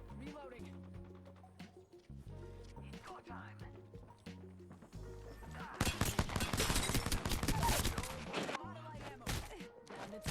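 Pistol gunfire in the video game Apex Legends: a dense volley of sharp, loud shots erupts midway over a tonal game soundtrack, following quieter rhythmic game sounds.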